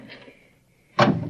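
A metal door in a tunnel in an old 1950s radio drama opens with a sudden sharp clunk near the end, after a quiet stretch with a faint voice at the start.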